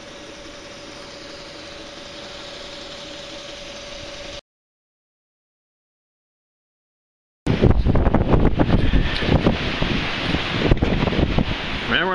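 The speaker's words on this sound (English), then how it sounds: "Remember I told you the wind was coming?" Wind gusts blowing outdoors hit the microphone, steady at first, then after a silent gap returning louder and rougher, a harsh buffeting roar with no voices.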